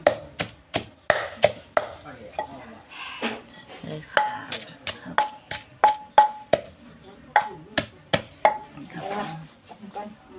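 Rhythmic thuds of a pestle pounding chili and garlic in a mortar, repeated steadily and close by, with occasional speech between the strokes.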